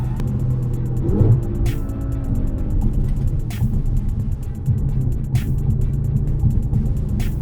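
An Audi RS5 in sport manual mode accelerates hard from inside the cabin, its engine note rising in pitch through a run of gear changes, each marked by a brief sharp break in the drone.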